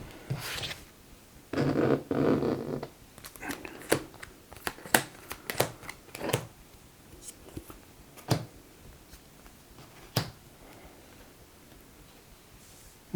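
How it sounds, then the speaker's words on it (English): Game cards from a Marvel Champions deck being shuffled and drawn on a tabletop: a dense riffling burst early on, then a series of sharp, separate snaps and taps of cards, close and fairly quiet, with no talking. "Let me shuffle her deck and draw my last 2."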